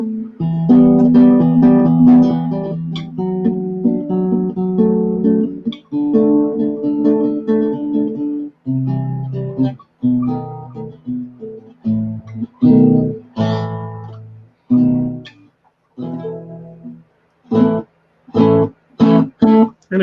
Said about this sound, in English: A classical nylon string guitar.